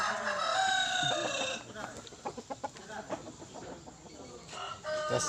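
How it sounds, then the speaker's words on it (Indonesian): A rooster crows loudly and close by at the start, then clucks in short repeated bursts with some background noise, as it is readied for a cockerel test. "Tes ayam. Tes jago."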